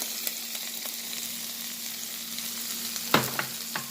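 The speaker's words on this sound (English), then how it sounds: "And we're going to drop in an egg" An egg fries in a hot pan of fried rice with jerk chicken, a steady close sizzle broken by a sharp crackle near the end, with no one talking.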